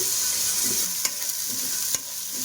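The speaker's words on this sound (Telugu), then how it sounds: "అది కూడా కొంచెం ఫ్రై అవ్వాలి. ఫ్రై చేద్దాం." Ginger garlic paste frying in oil in a pan for a spicy mutton head curry, a steady close sizzle with a couple of brief clicks from stirring, no talking.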